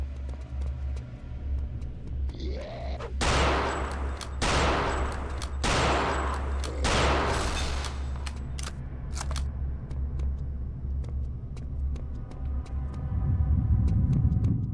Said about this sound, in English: I'm gonna have to pull out the Mauser rifle on these motherfuckers and start hip firing.